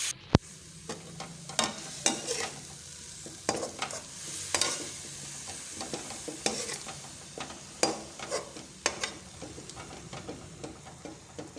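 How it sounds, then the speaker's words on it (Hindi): Spices and mixed vegetables frying in a pan for a vegetable paratha filling, with a steady sizzle and frequent sharp scrapes of a spoon stirring, close and fairly loud with no talking. "सबसे पहले मसाले में मसाले डालकर अच्छी तरह भून लेंगे।"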